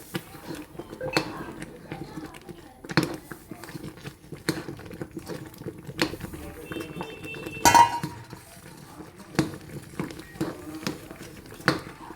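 A spoon scrapes and clinks against a pan while roasted rava is stirred for Kerala-style uppumavu, as light, irregular metallic taps and scrapes that are close and fairly quiet, with faint sizzling underneath.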